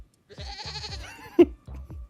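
A short goat bleat added as a sound effect rises briefly over another voice, with a sharp burst partway through and quieter bleat-like calls trailing after.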